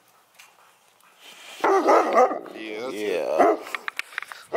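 A dog barks and yelps close by amid people talking, followed by a few short sharp sounds.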